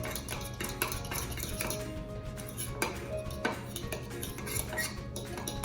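A spoon scrapes a thick cornstarch mixture from the sides of a pot while teriyaki sauce for pork and vegetables cooks, giving steady close-up scraping with frequent metallic clinks and knocks against the pot.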